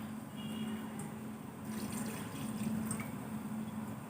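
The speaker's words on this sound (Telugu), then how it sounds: "వేసుకుని ఒక గ్లాసు వాటర్ వేసుకోవాలి" A glass of water poured into a pot of frying goat bone-marrow curry (mulugula pulusu), a steady close liquid rush running alone for about four seconds.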